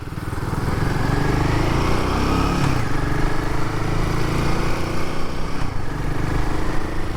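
A Royal Enfield Himalayan 450 motorcycle engine drones steadily while being ridden on a road toward a highway, a loud, continuous mid-pitched rumble mixed with wind noise and no talking.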